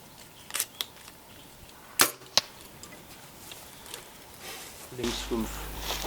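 An arrow shot at a 3D owl target on a hillside archery course: sharp snaps and a clear thwack of impact, followed by faint rustling and a few knocks outdoors.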